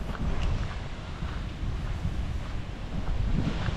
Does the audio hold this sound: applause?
no